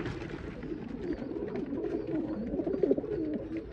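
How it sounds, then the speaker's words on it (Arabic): Old Iraqi pigeons cooing close by, a steady overlapping run of low throaty coos with soft rustling underneath and no voices. "هاي طيورنا العراقية القديمة"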